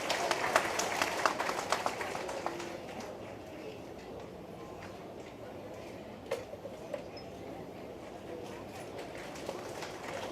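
A hall audience at a film audio launch applauds while actor Samuthirakani is honoured, dense clapping strongest at first and then thinning to scattered claps over a murmuring room.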